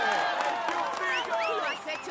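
A crowd at a cycling stage podium applauds and cheers a rider, a busy wash of clapping and shouting voices with whistles and calls cutting through, steady and moderately loud.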